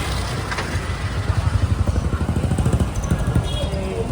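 Royal Enfield Bullet motorcycle ridden by friends on a town street, its thumping single-cylinder exhaust pulsing close by in a rapid steady beat amid traffic noise.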